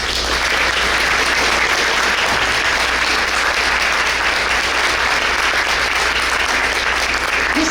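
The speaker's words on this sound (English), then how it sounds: "Let's give this amazing group a round of applause." A breakfast audience applauds steadily for a full round, dense even clapping filling the room from start to finish at a constant loudness, with no voices over it.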